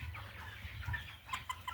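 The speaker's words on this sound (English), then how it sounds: "this is a hen here" A hen clucks softly among meat chickens, Cornish Cross birds at 41 days old in a pen, with low, quiet, uneven clucks and murmurs from the flock and no talking.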